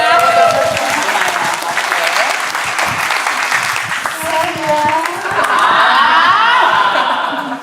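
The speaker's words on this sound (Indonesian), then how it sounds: "Tepuk tangan dulu sekali lagi, tepuk tangan." Audience applause at a birthday party, steady clapping that swells loud and close, mixed with chuckles and voices from the crowd, lasting the whole stretch.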